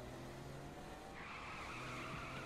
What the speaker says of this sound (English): You guys like my drifting skills?